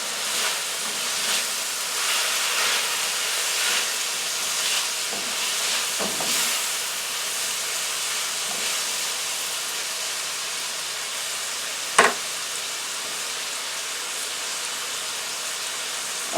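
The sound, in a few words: zucchini frying in olive oil in a pan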